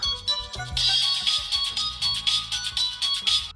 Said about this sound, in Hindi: सबके फोन इतने क्यों बज रहे हैं?